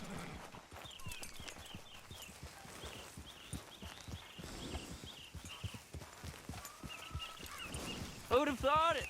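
Horse hooves clip-clop at a steady walking rhythm in the video game Red Dead Redemption 2, continuous and fairly close, with a brief whinny near the end; someone talks over the hoofbeats.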